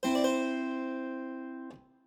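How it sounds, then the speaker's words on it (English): A keyboard note rings out after a quick mordent, a flick to the upper neighboring note and back, sustaining and fading before a soft release thump. "A mordent is a one-note trill to a note's nearest upper neighbor in the scale."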